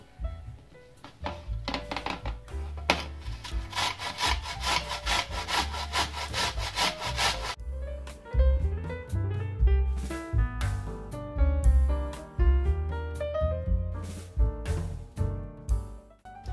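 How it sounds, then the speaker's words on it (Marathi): Rhythmic rasping strokes of beetroot rubbed against a grater, steady back-and-forth scraping close by, with a few knocks and no speech. "आता आपण हे बीट खिसून घेणार आहोत।"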